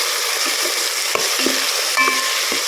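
Mint leaves and turmeric frying in oil for dal khichdi, a strong steady sizzle with a few light spoon taps and scrapes scattered through it.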